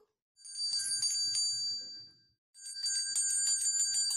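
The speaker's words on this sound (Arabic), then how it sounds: "يلا يا الولد الجرس ضرب كل واحد على فصله" An electric school bell rings in two bright, shrill bursts separated by a short silence, loud and close, with no one speaking.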